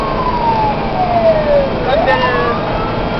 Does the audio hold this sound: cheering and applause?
no